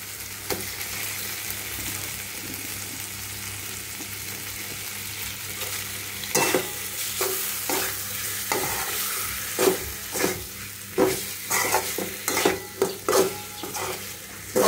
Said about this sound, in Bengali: মাছ ভালো করে কষিয়ে নিই